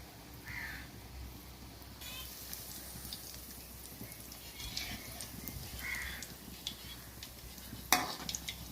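Mutton kola balls fry gently over low heat in oil, giving a soft, steady sizzle with faint bubbling crackles, fairly quiet throughout.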